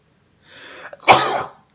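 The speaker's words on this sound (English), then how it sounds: "Ooh, I'm about to sneeze" A single sharp human sneeze bursts out after a brief drawn-in breath, close and loud in an otherwise quiet room.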